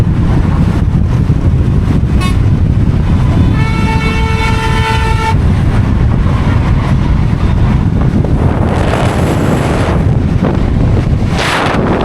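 Traffic rushes along the NH9 highway under heavy wind buffeting, and one sustained horn blast rings out for a couple of seconds before fading back into the steady road roar. No one speaks.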